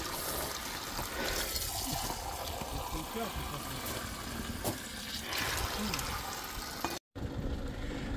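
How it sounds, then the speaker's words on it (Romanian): Spring water on Mount Athos pours and splashes steadily into a container while faint voices talk nearby, then cuts out abruptly near the end. "Niște apă de la izvor e binevenită."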